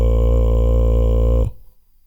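A bass singer sustains a single low subharmonic drone, a dense buzzing tone held loudly for about one and a half seconds before cutting off abruptly.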